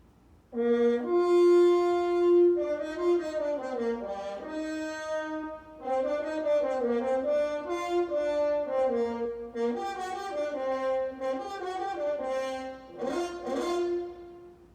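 French horns play a mellow, legato melody with warm sustained notes and a few short breaks between phrases, clear and close, with no talking.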